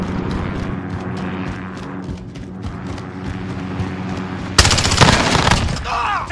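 Gunfire in Call of Duty: Modern Warfare during a P90 match, with distant scattered shots under steady battle ambience, then a sudden loud burst of rapid close firing in the final seconds.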